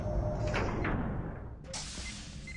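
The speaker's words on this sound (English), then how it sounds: "Door! Sensors are configured." A sci-fi sliding door in a Star Trek Enterprise D recreation game whooshes open, a smooth hissing swish followed by a bright, sustained hum as it settles.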